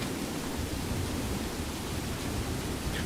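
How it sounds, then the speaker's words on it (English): Steady rain in the video game Skyrim, a continuous broadband hiss like pink noise, constant and moderately loud with no breaks and no voices over it. "Wow, this rain is just not letting up no matter where we go,"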